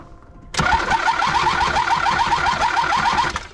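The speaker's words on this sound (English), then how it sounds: "Okay, when I'm cranking, does it flow into it?" An old scrap car being restored is cranked by its starter, a loud close rhythmic whirring churn that begins abruptly and keeps turning over steadily for about three seconds without catching.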